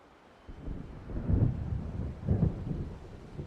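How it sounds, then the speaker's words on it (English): Distant thunder from an approaching storm in the game Alan Wake, two low rolling rumbles swelling and fading over a faint windy background. "It seems there's a storm coming."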